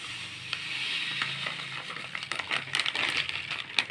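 Sugar poured onto ground dal for Ashoka halwa, a gritty granular rustle and scraping in a pan, building into irregular crackly clicks toward the end.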